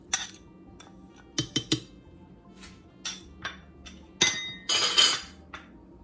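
A metal spoon clinks sharply against a glass or jar while three spoonfuls of sugar go in for a mixed berry smoothie, giving scattered close clinks and taps with brief pauses between them.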